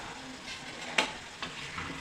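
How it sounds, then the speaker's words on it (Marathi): Spicy red pumpkin sabzi stirred in a pan, low sizzling under a couple of distinct spatula scrapes and taps, quiet and close, no talking. "मिक्स करून घेऊया भोपळ्याची भाजी"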